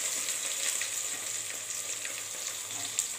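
Garlic, cumin seeds and chilli frying in hot oil while being stirred, a steady bright sizzle with faint scraping, close and continuous with no talking.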